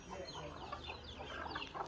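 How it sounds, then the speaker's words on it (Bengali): Soft clucking and peeping of hens and chicks, faint and a little distant, scattered calls over quiet background noise. "এই দেখেন আমার আম্মার মুরগির ছানাপানা দেখেন"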